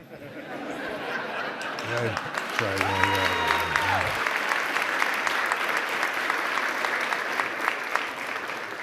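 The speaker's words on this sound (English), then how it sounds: "I'm humbled by the applause." An audience at a New York City Council meeting applauds steadily in a large chamber, with a brief sung or spoken tonal voice rising over the clapping and some chatter and laughter mixed in.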